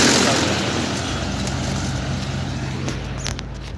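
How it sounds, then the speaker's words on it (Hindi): Tractors running in a village in Durgapur, Tikamgarh, Madhya Pradesh, surrounded by hills during lockdown, a steady broadband engine drone that fades slightly, with a voice faintly present. "ट्रैक्टर्स सारे चल रहे हैं"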